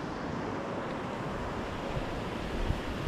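On an empty beach, surf and wind make a continuous broadband roar. The sound is dense and steady throughout, with wind buffeting the microphone, and no voices are heard.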